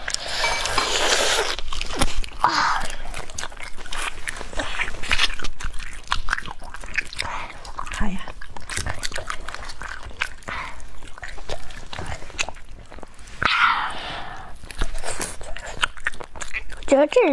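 Biting and chewing of octopus, with repeated close, wet and crunchy bites and chews running throughout, a voice talking at times over the eating.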